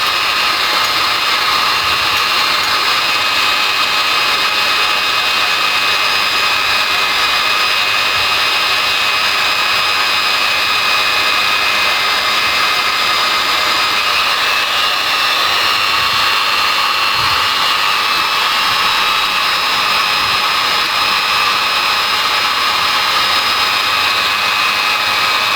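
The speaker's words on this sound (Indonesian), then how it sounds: "Memang harusnya pakai yang mata bor besar ya, biar lebih cepat buat ngabisin ininya." Hand drill with a dimmer speed control porting a Kawasaki Ninja two-stroke cylinder block, a loud continuous high-pitched whine and grinding hiss held steady throughout without pause.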